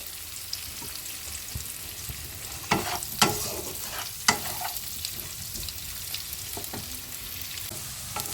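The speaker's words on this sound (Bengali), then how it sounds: "এইবার ভালোভাবে হলুদ আর নুন দিয়ে আলুগুলোকে একটু কড়া করে ভেজে নেব" Potatoes with turmeric and salt fry in a pan, giving a steady, close sizzle broken by a few sharper scrapes and clatters of stirring; no one speaks.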